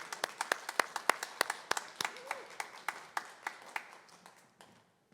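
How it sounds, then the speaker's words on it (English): A small group applauds a retiring teacher, with sharp, distinct hand claps in a fairly sparse, uneven rhythm that thins out and fades to silence after about five seconds. "give him a round of applause"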